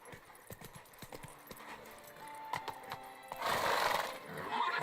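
A horse galloping in The Witcher 3 video game, rhythmic hoofbeats clopping quickly and closely, with a burst of louder rushing noise in the last second or so.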